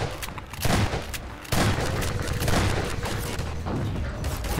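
Gunfire in the Half-Life 2 mod Transmissions: Element 120, a few sharp loud shots with booming impacts and ringing decay, firing in short bursts amid in-game ambience.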